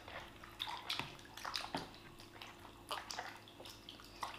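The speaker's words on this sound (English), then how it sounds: "Time to wash our hands." Hands washed under running water before a meal, with splashing and dripping in uneven bursts, close and fairly quiet, and no talking over it.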